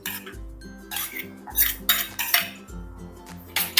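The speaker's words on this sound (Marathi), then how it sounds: "हे सर्व आपण मिक्स करून घेऊया." A spoon mixes spices, turmeric and paste in a bowl, giving repeated loud metallic clinks and scrapes in bursts, with no talking.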